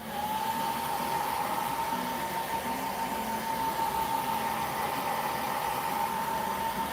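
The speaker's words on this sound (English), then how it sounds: "turn on the dryer for this paint." A handheld heat dryer blows over freshly applied craft paint with a steady, even whir and a constant hum throughout, with no pauses.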